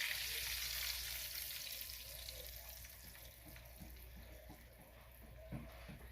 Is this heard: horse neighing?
no